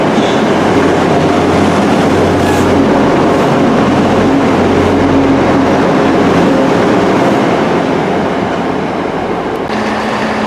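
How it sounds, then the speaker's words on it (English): A diesel passenger train arrives at a platform close by, rumbling loudly in a continuous heavy roar with low engine drone and faint clattering wheels, no speech. "Here comes our train."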